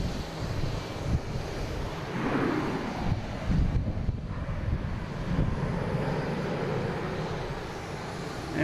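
An Alaska Airlines Boeing 737 MAX 9 arriving from Seattle at Boston Logan sends a moderate, steady jet rumble across the scene, rising slightly midway, with some wind noise on the microphone.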